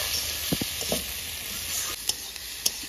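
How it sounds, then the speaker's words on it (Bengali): Fried prawns stirred in a pan with cumin powder and spices, a steady frying hiss broken by several sharp scraping clinks of the spatula, close and moderately loud, with no talking. "এবারে ভালো করে নাড়াচাড়া দিয়ে"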